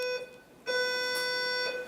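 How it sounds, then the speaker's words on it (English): A fire alarm goes off in a condominium planning commission meeting room, a loud electronic tone with steady harmonic beeps that cut out briefly and then resume sustained, with no talking. "a fire alarm, right?"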